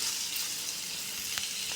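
Bitter gourd tempering (kakarakaya talimpu) sizzling and frying in a pan on the stove, a steady close hiss with a couple of brief stirring clicks near the end.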